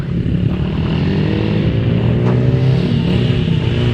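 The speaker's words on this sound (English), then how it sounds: "you can see behind me a lot of ATVs and little motorcycles" ATVs and small motorcycles ride past on a trail in Alaska, a loud continuous buzzing engine drone with a slight rise and fall in pitch, close and with no talk.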